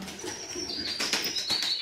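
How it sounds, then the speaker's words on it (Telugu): Pigeons coo close by in a brief burst of soft throaty calls, with a thin whistling tone and light fluttering alongside. "పావురాలు"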